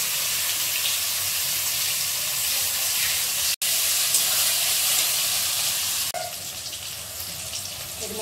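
Boiled and ground vegetable-peel paste dropped into hot oil tempered with nigella seeds, a loud, steady sizzle and hiss that breaks off briefly midway and quiets somewhat near the end.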